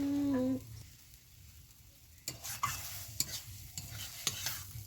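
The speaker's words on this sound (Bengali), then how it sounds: "এগুলো খুব ভালো করে ঘেটে নেব" A spoon stirs tomato sour curry tempered with mustard seeds in a pan, giving soft scraping strokes and irregular clinks over a low sizzle, close and moderately loud, after a brief tonal beep at the start.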